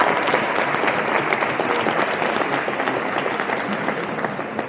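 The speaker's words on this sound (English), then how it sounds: "So yeah, let's start with a big applause." Conference audience at a European blockchain convention in Barcelona giving steady, full applause, a dense even clatter of many hands that continues throughout the stretch.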